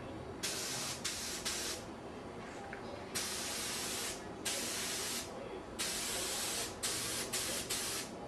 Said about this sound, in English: Okay, let's spray.